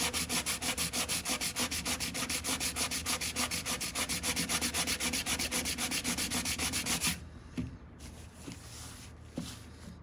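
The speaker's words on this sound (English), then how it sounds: "Here, just sand it." Hand sanding on a fiberglass part during a restoration: rapid, steady back-and-forth rasping strokes, loud and close for about seven seconds, then stopping, with a few soft knocks and handling noises after.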